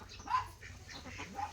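Local domestic ducks kept in a small homemade pen give faint quacking calls and bird chatter, a few brief calls close by at low level.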